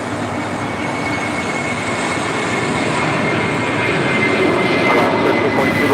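A jet airliner takes off from runway 25 right at LAX, its engine roar a steady, loud broadband rumble that holds for the whole stretch and swells slightly toward the end.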